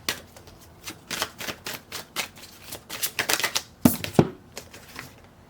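Tarot cards being shuffled by hand, a series of quick riffling bursts and soft flutters with short pauses, close and fairly crisp, ending in a couple of sharper taps.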